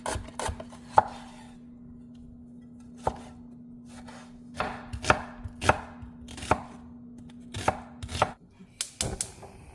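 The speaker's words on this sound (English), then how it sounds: "I have chopped onion, tomato, a jalapeno" A knife chops onion, tomato and jalapeno on a board in a series of crisp, irregular strikes, some spaced apart and some in quick bursts, over a steady low hum.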